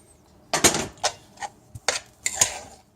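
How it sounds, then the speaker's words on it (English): Chopped fresh tomatoes are gently stirred into a couscous salad, with a spoon knocking against the bowl in about eight soft clinks and taps spread unevenly over a few seconds, close by in a quiet room. "And you gently stir the tomatoes into the rest of the ingredients"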